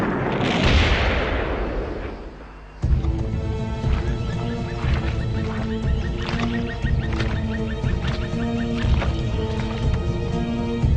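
Battle effects for a World War II Japanese attack open with a roaring blast, then run into a dense barrage of explosions, artillery thuds and gunfire, with horses neighing amid the din.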